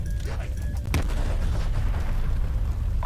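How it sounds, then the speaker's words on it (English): Explosions and gunfire in the Call of Duty zombies map Mauer der Toten: a sharp loud blast near the one-second mark within dense rumbling battle noise. "Explosions."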